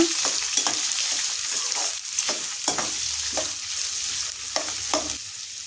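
Finely chopped onion fries in a pan, giving a steady sizzle broken by repeated scraping stirs of a spoon, close and without talking.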